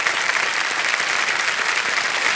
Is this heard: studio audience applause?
yes